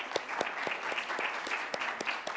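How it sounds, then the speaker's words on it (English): An audience claps steadily at the final pitches of an innovation fellowship business competition in Peru, a dense patter of many hands with no voices over it. "Should we give them all a round of applause?"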